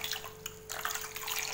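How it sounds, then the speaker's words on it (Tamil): Water poured over peeled tapioca in a pressure cooker, a soft steady splashing and trickling stream, close and fairly quiet. "தண்ணியை ஊற்றிக்கலாம்."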